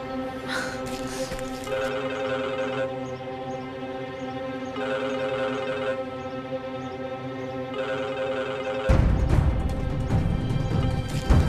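A phone rings unanswered in a soft, repeating pattern of electronic tone bursts at steady intervals, in a Turkish drama scene, until a louder, rougher noise cuts in near the end.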